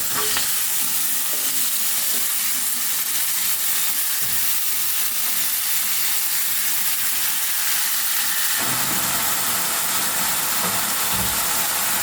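Tomatoes sizzle as they are sautéed with salt in a pan while cooking a moong dal and spinach dish. A steady, loud frying hiss continues the whole time, with occasional stirring scrapes and a shift in texture near the end.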